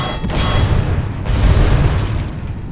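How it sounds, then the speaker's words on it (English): A loud, sustained blast in The Suffering blows a hole through a wall, with a heavy rumbling boom that rolls on for a few seconds. "I think I'm gonna be able to blow a hole in the wall if I shoot these"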